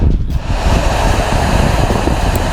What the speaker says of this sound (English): I'm hoping this is actually just wind rushing through some kind of construction tunnel